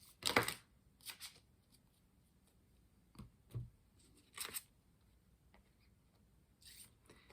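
Tarot cards are shuffled and pulled in a quiet room, with soft, sparse riffles and flicks spaced out by silent pauses, close and faint.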